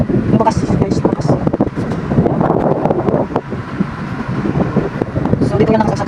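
An electric fan, running stronger after its capacitor was replaced, gives a steady broadband whoosh of moving air that holds throughout, with someone talking over it.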